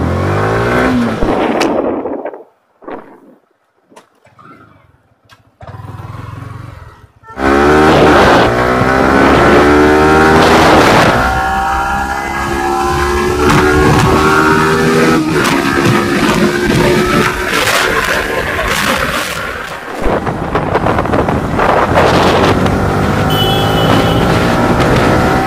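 A Yamaha motorcycle rides along a road, its engine droning steadily and loud with shifting pitch as it accelerates, after a quiet start with a few brief knocks.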